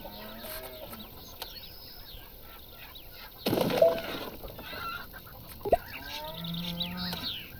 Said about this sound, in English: What is it with ducks in this game?